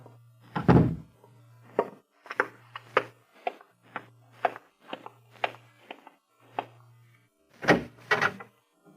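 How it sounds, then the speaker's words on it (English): A door thuds shut in an old 1940s espionage radio drama, followed by a series of knocking, footstep-like thunks spaced across the scene, clear and close with no speech. "Close that door, Anna."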